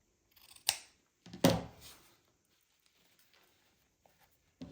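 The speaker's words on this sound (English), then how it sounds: "So make sure you're cutting from the fold." Scissors cutting ribbon to shape a bow: two crisp, close snips, the second with a longer slicing rasp, then near-quiet with faint handling ticks and another snip starting at the end.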